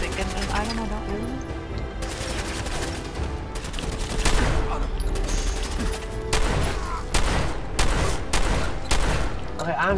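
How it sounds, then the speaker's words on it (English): Repeated shotgun blasts fire in a video game set in Vault 116, loud sharp reports at irregular intervals over dense game music and effects, with an enemy that keeps taking hits. "I'm shooting this asshole with a shotgun in the face, and he's not dying."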